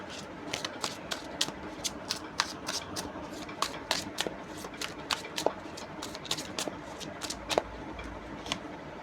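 Tarot cards shuffled and drawn, a quick run of crisp, papery snaps and flicks repeating close by in an uneven rhythm, with no talk over it.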